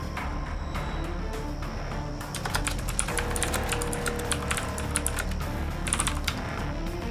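Steady, close typing on a computer keyboard, with dense rapid key clicks that keep a continuous rhythm and grow slightly louder and busier halfway through, alone without talk.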